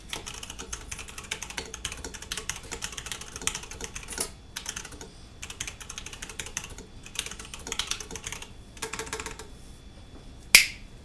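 Keys clatter on an open-body mechanical keyboard with PBT keycaps and Gateron switches, a steady run of crisp, close clicks and clacks, pausing briefly and ending with one sharp louder strike.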